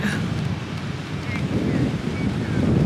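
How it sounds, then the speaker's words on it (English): Wind and surf at Myrtle Beach, with a steady breeze buffeting the microphone over a continuous low wash of ocean waves, loud and close throughout. "I love the ocean, love the sound of the waves."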